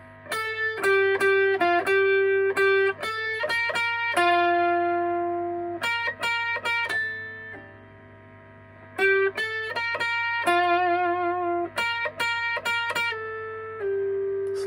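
An electric guitar with distortion and effects plays a song part, sliding down the neck between phrases of held notes and quick stabs, loud and clear with no talk.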